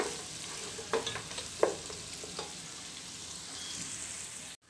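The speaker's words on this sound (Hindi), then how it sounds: "और इसको कलर चेंज होने तक अच्छे से फ्राई करके लेंगे" Onions and cashews fry and sizzle in a pan for a Reshmi chicken recipe, a steady hiss broken by a few stirring scrapes and clinks before the sound cuts off.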